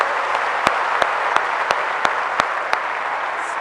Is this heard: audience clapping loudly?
yes